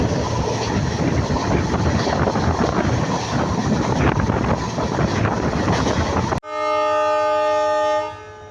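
DonyPolo Express under emergency braking: a loud, rushing rail roar with wind buffeting, then a sudden break into a sustained, pitched metallic squeal holding for about two seconds before fading.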